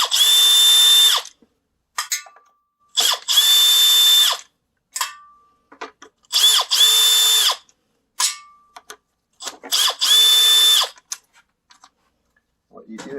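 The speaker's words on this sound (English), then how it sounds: "Okay, so I got a T27 wrench here, just 4 screws." A power driver with a T27 bit whirs in four loud bursts of about a second each, removing gearbox screws from a Stihl HSA 56 cordless hedge trimmer, with short clicks and handling noises between the bursts.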